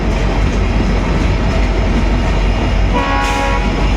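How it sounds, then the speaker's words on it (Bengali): The Shatabdi Express rolls into Rampurhat Junction station with a loud, continuous rumble of wheels and carriages, and a horn-like tone rises near the end. "এই মুহূর্তে শতাব্দী এক্সপ্রেস ঢুকছে রামপুরহাট জংশন রেল স্টেশন"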